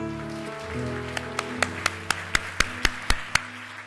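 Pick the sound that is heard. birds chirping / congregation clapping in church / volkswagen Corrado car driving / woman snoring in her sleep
congregation clapping in church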